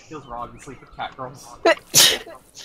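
A single sharp sneeze bursts out near the end of a casual conversation during an Untitled Goose Game session, loud and close, with people talking just before it.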